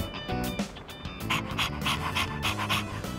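A dog in the video game Persona 3 Reload pants steadily at close range, with quick rhythmic breaths repeating throughout and no talk over it.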